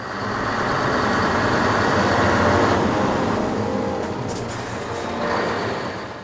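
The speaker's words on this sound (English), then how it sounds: "Finally, with trefoils now applied, the truck departs for the radioactive waste processing plant." A truck carrying radioactive material pulls away from a rail terminal, its engine rumbling steadily and loudly throughout, with brief hissing bursts like air brakes releasing partway through.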